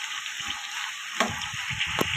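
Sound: eggplant curry mixture cooking in oil

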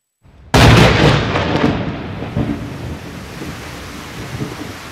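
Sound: thunder sound effect in radio drama

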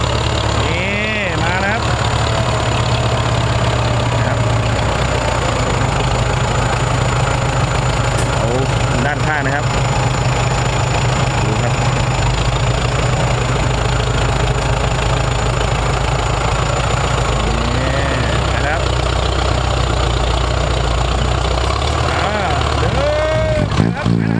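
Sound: tractor engine idling

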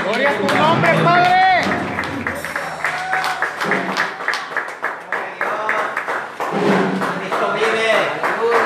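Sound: congregation applause in church

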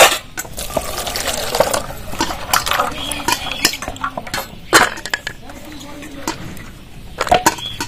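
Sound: washing cashews and raisins in a bowl with water

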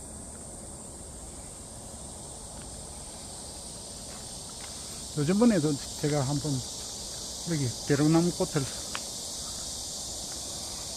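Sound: cicadas chirping

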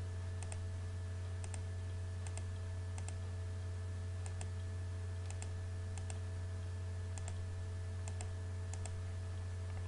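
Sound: computer keyboard typing and mouse clicking, AutoCAD commands

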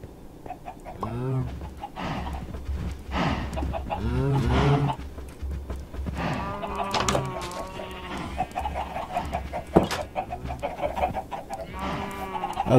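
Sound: chickens clucking in Minecraft video game

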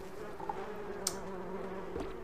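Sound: bees buzzing in Donut County video game

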